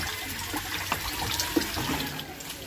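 Running water rinses soap out of a washable RS150 motorcycle air filter, a close, uneven splashing flow with small drips and splatters and no talk.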